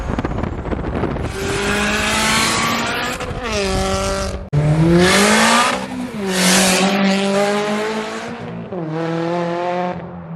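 A Subaru BRZ fitted with a P&L stage 2 turbo kit and Garrett G30 660 turbo roars loud and close through repeated revving pulls, its engine note climbing and falling in several bursts alongside tire noise, with no talking.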